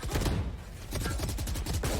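Sharp gunshots from a Marshall sniper rifle during a Valorant esports match, a fairly quiet, rapid run of cracking shots with no voices.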